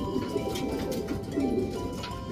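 A racing pigeon coos softly amid a busy background of other birds, with low murmuring calls layered over a steady hum.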